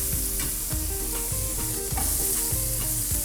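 A rack of lamb searing in a hot pan, a loud, steady sizzle and crackle of fat throughout, with repeated scraping knocks of a utensil moving the meat, and no voices.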